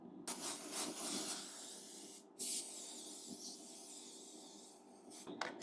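Cooking spray hisses from a can while baking, a few soft bursts of spray close by, fairly quiet, with short pauses between them.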